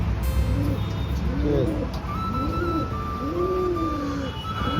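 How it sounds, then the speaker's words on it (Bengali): Pigeons of fancy breeds such as pouters coo in a home pigeon loft, several soft rising-and-falling coos repeating close by over a steady background hum. "এই একজোড়া পটার, এখানে একটা ফুলশিরা, ওখানে একটা ম্যাডাস, ওখানে আর একটা পায়রা"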